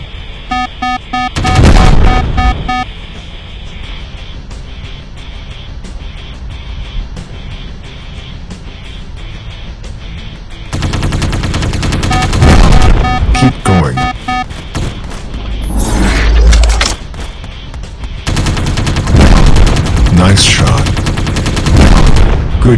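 Gunfire and explosions from a robot transformation action game for Android, with loud bursts of shots and booming blasts coming in clusters separated by quieter stretches of game background.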